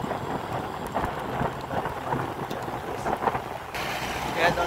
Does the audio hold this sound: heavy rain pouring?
yes